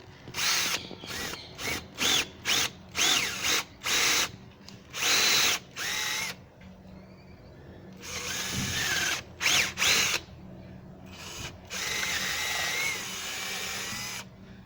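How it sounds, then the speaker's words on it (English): A power drill whirs in repeated short bursts, then longer runs as it bores at a slight upward angle through a wooden bee hive, stopping and starting with brief pauses between. "we'll drill on a slight upward angle"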